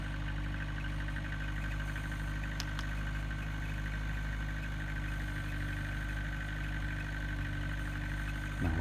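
Car engine idling steadily just after a cold start at minus 27 degrees on a standard Tyumen 60 battery, a low, even hum close by that continues alone without talk.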